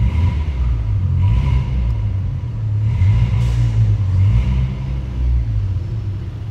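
A Volkswagen Polo with a loud exhaust, heard from inside while driving as a deep, steady engine rumble that swells slightly with throttle, loud and continuous.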